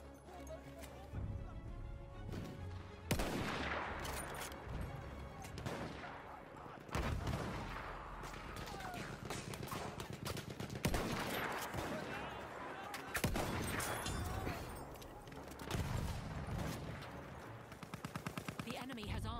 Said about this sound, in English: The enemies are being halted by our artillery barrage.